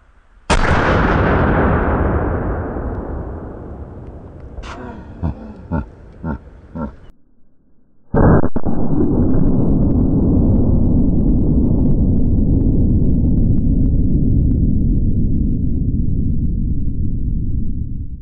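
A 50-caliber anti-materiel rifle fires with a huge concussive blast that rings out and decays, followed by a rattle of movement, then a second booming shot with a long rumbling tail.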